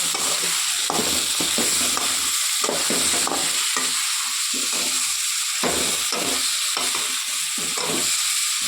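Raw banana curry sizzles steadily in a hot pan while a spoon stirs it in repeated scraping strokes, close up and loud, with no talking.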